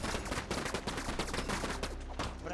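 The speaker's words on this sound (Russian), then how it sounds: "Заградительный огонь." Rapid barrage gunfire in the online battle game Prime World, a continuous rattling stream of close, dense shots with no pauses over its short span.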